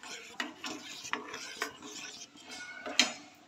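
A spoon stirs semolina porridge in a pot, giving repeated scraping strokes and small metallic clinks against the pot, close and fairly quiet, with no talk.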